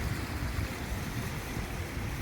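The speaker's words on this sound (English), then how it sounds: "You can hear the water flowing." Steady rushing water fills the scene, a continuous broad roar from a nearby waterfall on the Los Peñasquitos trail in San Diego, with no voices.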